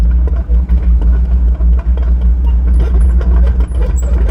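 A 2017 Doosan DX55-5K mini excavator travels at high speed, a loud heavy diesel drone with a steady low rumble and faint clanking on top, close and continuous.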